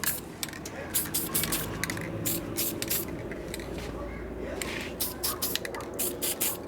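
Short aerosol spray bursts lay a thin coat onto Harley WLC/WLA 45ci star hub wheel parts from a 1942 motorcycle, coming in repeated hissing puffs close by over a quiet shop background.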